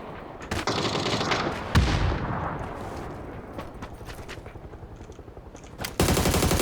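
Video game gunfire in rapid automatic bursts and single cracks, loud and close, with a booming hit around two seconds and a sharp louder burst at the end; no talk.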